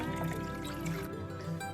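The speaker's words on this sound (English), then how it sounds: "We're going to put in 2 cups of water." Water being poured into a lemonade mix with fresh mint leaves, a steady, fairly quiet trickling stream lasting a couple of seconds with no talking over it.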